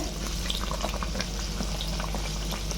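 A paratha fries in a pan over a low gas flame, giving a soft, even sizzle with faint bubbling crackles, steady and close throughout.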